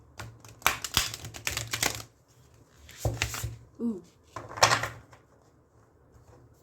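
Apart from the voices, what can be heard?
shuffling oracle cards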